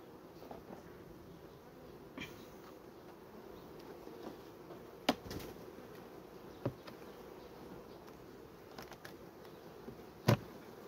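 Honey bees in an opened hive hum in a steady, moderately close drone, with scattered sharp clicks and knocks of frames being handled over the buzzing.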